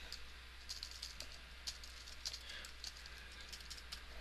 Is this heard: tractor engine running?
no